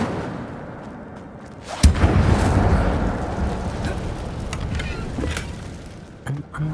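Incendio fire spell blast in Hogwarts Legacy: a sudden whooshing burst followed by a sustained roaring, crackling rumble of flames that slowly fades, with a few small impacts near the end.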